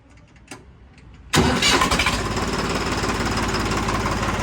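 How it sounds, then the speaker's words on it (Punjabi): After a second of near silence, a Swaraj tractor's diesel engine self-starts, cranking and catching, then settles into a loud, steady rumbling idle close by. "ਟਰੈਕਟਰ ਆਪਾਂ ਪਹਿਲੀ ਸੈਲਫ ਸਟਾਰਟ ਹੁੰਦਾ ਜਾਂ ਨਹੀਂ ਹੁੰਦਾ"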